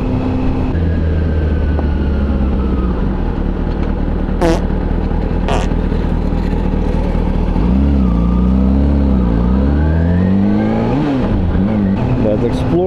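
Cars pass along a Dutch street one after another, their engine and tyre noise swelling and fading, with a nearer vehicle rising in pitch as it goes by, steady and fairly loud throughout.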